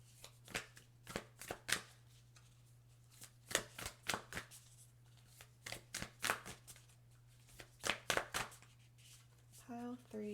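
A deck of numerology cards shuffled close by in quick irregular bursts of crisp riffles and flicks over a low steady hum, with a short spoken comment near the very end.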